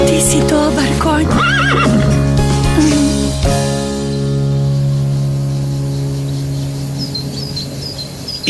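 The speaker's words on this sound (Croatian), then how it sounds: "Ovaj konj je izmučen." A distressed, exhausted horse on a ranch gives a loud, wavering whinny in the first few seconds, set over a sustained musical backing that continues after the neigh fades.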